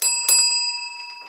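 A bright bell is struck twice in quick succession, and its clear ringing tone lingers and fades in a quiet room.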